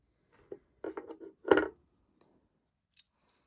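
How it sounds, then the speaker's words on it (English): Jewelry wire cut with cutters while making beaded chandelier earrings: a few short, crisp snips close up, the loudest near the middle, followed by quiet handling and faint clicks. "cut your wire about that much"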